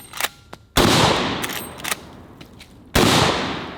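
A Henry lever-action 45-70 rifle fires two loud, sharp shots a couple of seconds apart, each blast followed by a long booming decay, with faint clicks and handling noises before and between them.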